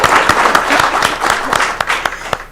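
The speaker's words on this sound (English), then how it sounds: "So one more round of applause for our panelists today." Audience applause for a panel at the close of a live-streamed event: a steady, dense wash of many hands clapping, fairly close and loud, with sharper individual claps popping out through the roughly two and a half seconds.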